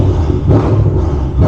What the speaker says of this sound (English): Let me give her a rev, see how I can hear her.